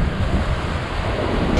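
Niagara Falls pours down in a heavy, continuous roar of crashing water, loud and close, with a constant wind-like rush and no speech.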